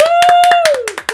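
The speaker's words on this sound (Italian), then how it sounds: "Un applauso ai culi." A short burst of close, sharp hand claps from an audience at an Italian podcast-style talk show, with a tonal whistle-like sound gliding down beneath it.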